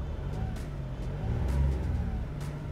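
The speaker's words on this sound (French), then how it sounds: "Là, j'appuie un peu. Elle monte déjà à 1500 tours." A car engine revved lightly to about 1500 rpm, a steady low rumble that swells gently, close by.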